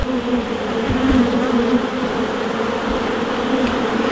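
Honey bees in a weak, low-population hive buzz close by in a steady, dense drone that hums on without pause.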